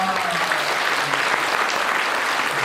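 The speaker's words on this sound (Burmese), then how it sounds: "ဟာလေလုယာလက်ခုပ်တီးပြီးပြောင်းချီးမွမ်းပါ" A church congregation claps in praise after calls of hallelujah, dense steady applause from many hands filling the room without pause, loud and continuous.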